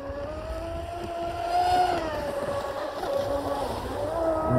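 A small electric RC speedboat, a Deltaforce 35 on a 4S lipo, whines steadily across the water, its pitch wavering as it runs nearby, with faint wind in the background.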